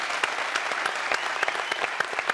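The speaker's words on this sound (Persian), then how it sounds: "آقای حجازی رو تشویق بکنید" A studio audience on a Persian television talk show claps steadily in a dense, even round of applause for the late football legend Nasser Hejazi, with no talking over it.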